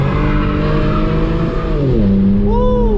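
An Infiniti Q50 drifting howls with loud, sustained tire squeal over a roaring engine whose pitch falls, then climbs again as the wheel peels, heard close and continuous.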